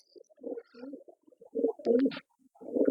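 Pigeons at a kabootar-keeping loft give soft, close cooing bursts in short irregular phrases, with brief pauses between calls.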